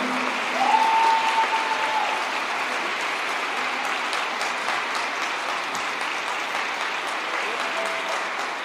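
A political audience in Mexico applauds in a dense, continuous wash of clapping that stays steady throughout, with a brief tonal whistle near the start and faint voices mixed in.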